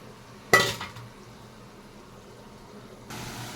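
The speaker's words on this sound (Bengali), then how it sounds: "আমি এর মধ্যে একটু জল দিয়ে দিচ্ছি, মাংসটা আর একটু নরম হবে" Water poured into a pot of meat and potatoes cooking on the stove, a sudden splash and hiss that fades into low quiet bubbling, with another soft rush of sizzle near the end.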